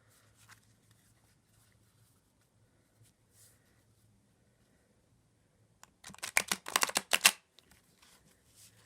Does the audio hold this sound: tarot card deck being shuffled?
yes